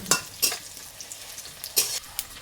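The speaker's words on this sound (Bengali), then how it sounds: "এবার আমরা হালকা করে পেঁয়াজটাকে একটু ভেজে নিলাম।" Three large chopped onions lightly frying in a pan: a soft sizzle broken by a few brisk scraping stirs, close up, no talking.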